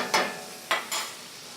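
Bacon frying in a pot as the fat renders out for collard greens with cabbage, a low steady sizzle broken by three short stirring scrapes, moderately close and with no talking.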